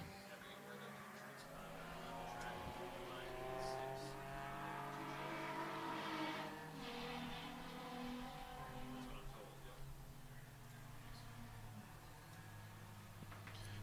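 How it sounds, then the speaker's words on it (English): Time attack race cars roll into the pit lane at Mid-Ohio during a GRIDLIFE TrackBattle event. Steady engine drone and rumble continue throughout, with a commentator talking over it. "Cars starting to come into the pit lane."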